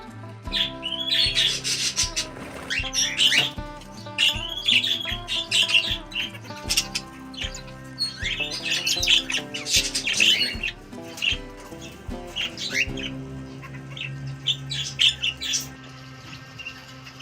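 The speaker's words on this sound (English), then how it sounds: "macaws, and yellow-crested cockatoos are also being bred and sold." Macaws and yellow-crested cockatoos on a parrot breeding farm squawk and screech loudly and continuously, many birds calling over one another in a dense, harsh chorus with chirps mixed in.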